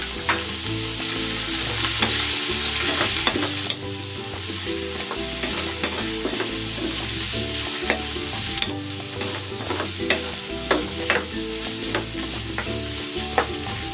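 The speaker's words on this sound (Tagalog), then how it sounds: "Ilalagay ko na tong pusit." Squid fries in a pan with garlic, crackling and sizzling loudly throughout while a utensil scrapes and stirs in irregular clacks, with no voices.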